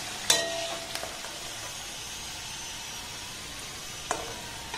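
Coconut dalia pitha frying in hot oil gives a steady, faint sizzle, with a few sharp utensil taps near the start and once more toward the end, close by and without voices.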